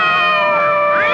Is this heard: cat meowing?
yes